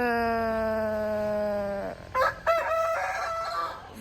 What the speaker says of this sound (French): c'est une poule